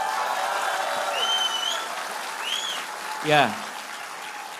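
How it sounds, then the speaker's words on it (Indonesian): Audience applause rises as a steady, moderate wash of clapping from a crowd at a public question-and-answer meeting, continuing while a voice briefly speaks and a short sweeping noise passes. "Kita kasih tepuk tangan buat mereka semua."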